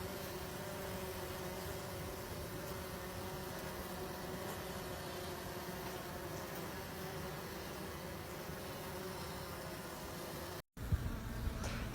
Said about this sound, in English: As you can see, there were a ton of bees.